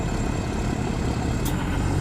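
A truck engine labours up a hill climb as a continuous, rough low rumble with broadband road noise, loud and steady for the whole moment.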